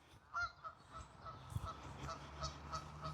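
Geese honking at a botanical garden in Germany, several loud, nasal honks from nearby birds in a quick, irregular series over outdoor background noise.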